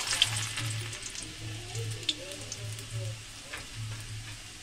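Garlic sizzles after being added to hot oil in a pan, a soft, steady frying crackle with a few brief clicks and no voices.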